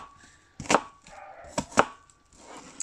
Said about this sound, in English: This is not my special onion cutting technique that I learned.